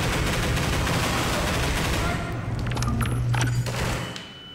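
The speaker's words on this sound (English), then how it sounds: "I knew there was a grenade" A grenade going off in the video game Half-Life 2, part of a loud, dense burst of gunfire and blasts that thins out toward the end.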